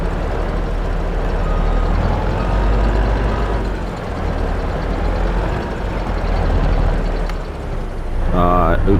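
A heavy truck engine in Farming Simulator 22 drones loudly and continuously while pushing a load uphill. A voice talks over it, and a short rising electronic chirp sounds near the end.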